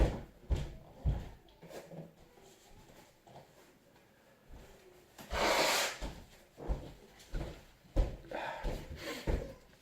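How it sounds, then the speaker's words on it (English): A man blows his nose at close range partway through a beer tasting: one loud, noisy burst of a couple of seconds, with quieter sniffs, rustling and handling knocks before and after it. "just forgive me, I'm just waiting to blow my nose."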